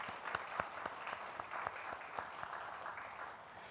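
A church congregation at a special dawn prayer service applauds children, parents and Sunday-school teachers, a steady, fairly quiet round of many hands clapping that fades slightly toward the end, heard from some distance without speech.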